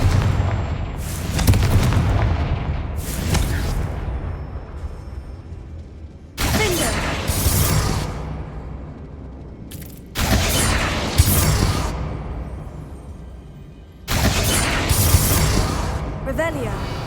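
Confringo fire spells in Hogwarts Legacy, cast inside a closed-off tomb-like mine, set off four loud booming explosions spaced a few seconds apart, each followed by a rumbling, crackling tail.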